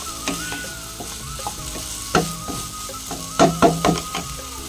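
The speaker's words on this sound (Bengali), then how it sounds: "এবারে ফ্রাই হোক" Salted ingredients frying in a pan for a Maharashtrian breakfast, a close sizzle broken by several sharp spatula knocks and scrapes against the pan.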